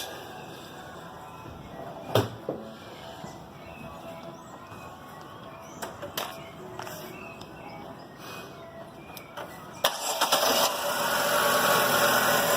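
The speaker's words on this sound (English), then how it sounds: "We turn on the car to show you." A Meriva car engine idles steadily with a fitted water electrolysis system, a low even hum broken by a few sharp clicks and knocks, rising to a brighter, louder hiss near the end.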